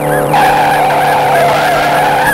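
Tires squealing as a car brakes hard in a stop-motion car chase, a loud, sustained screech with a wavering pitch lasting a couple of seconds, close and alone.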